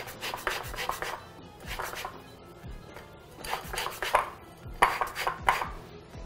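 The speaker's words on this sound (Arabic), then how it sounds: "راح نبرش قشر البرتقال حتى نضيف طبعا نكهة كلش طيبة لهذا النوع من الخبز" An orange peel is rubbed against a grater for zest, making close, rhythmic scraping strokes in quick bursts with short pauses between them.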